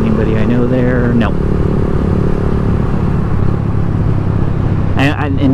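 A Lifan KP Mini motorcycle rides down a road, its engine droning loud and steady throughout, with a short voice over the start and a brief burst near the end.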